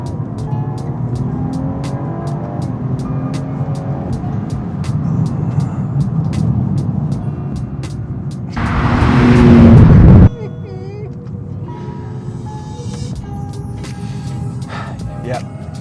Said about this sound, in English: right at the top end of the rev range, you do get a little bit of popping and banging